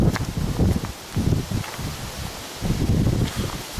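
Wind gusting across open countryside in Glenartney, Scotland, with low rumbling buffets against the microphone that rise and fall in waves.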